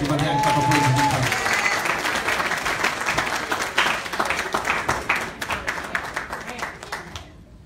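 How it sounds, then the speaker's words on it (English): A church congregation claps in praise, starting with a short sung or spoken voice, then sustained, fairly loud applause that thins into scattered claps and fades toward the end. "Give him a hand clap of praise."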